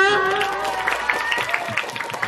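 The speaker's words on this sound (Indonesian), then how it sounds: "ayo berikan tepuk tangan untuk regu A" Applause and scattered clapping for team A at an Islamic quiz contest semifinal, with crisp individual claps popping out over a lingering voice and crowd murmur.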